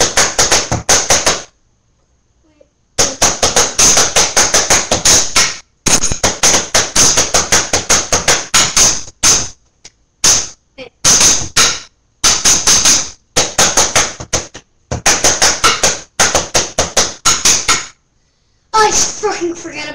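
Drumsticks striking in fast rapid-fire bursts, loud and close, with sharp repeated hits in runs separated by short pauses.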